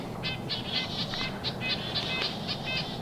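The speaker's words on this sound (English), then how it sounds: "We got chickadees just blowing up the microphone probably" Chickadees call in quick repeated high chirps close to the microphone in a Maine woodland at eight in the morning, over a steady breezy outdoor hiss.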